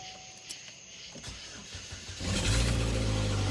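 A 2.4 Ecotec engine cranks briefly and then catches, settling into a loud, steady running rumble after a quiet stretch with faint clicks, heard close up with no talking.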